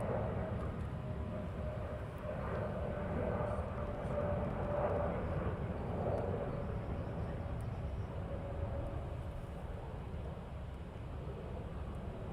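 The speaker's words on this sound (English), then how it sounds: "he's departing over Heathrow now, over London, out of Heathrow." Airplane departing Heathrow Airport over London, heard as a steady, distant broadband jet roar with a faint tonal whine, continuous and even in level across the whole stretch.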